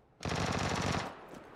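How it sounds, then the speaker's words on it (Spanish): An automatic weapon fires in PUBG, a rapid burst of about a dozen shots in roughly 0.8 seconds, loud and close, ending abruptly with a short fading tail and no talk. "Me disparan"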